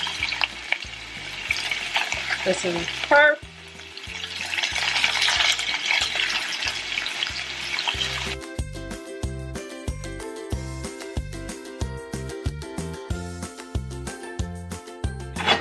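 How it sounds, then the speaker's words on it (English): Chicken sizzles and crackles steadily in a very hot pan, loud and close, with stirring and a brief remark from a voice. "This is really hot, so it's gonna sizzle"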